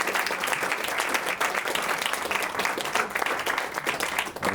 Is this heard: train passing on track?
no